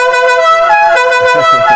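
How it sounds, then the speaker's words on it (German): A Fiat's Italian-style car horn sounds as one loud, sustained multi-tone blare that holds steady for nearly two seconds, heard alone inside a collector's car garage. "Die gute Italien-Hupe so ungefähr."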